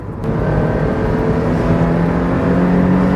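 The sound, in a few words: sports car engine revving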